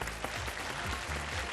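A studio audience at the semi-finale of a women's talent show claps for a contestant in a short, steady patter of applause, fairly quiet and without voices.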